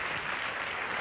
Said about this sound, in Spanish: El aplauso para Concha.